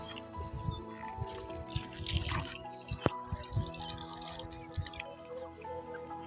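Water dripping and splashing while a goat is bathed before Eid sacrifice, irregular close drips and trickles with light handling noises throughout.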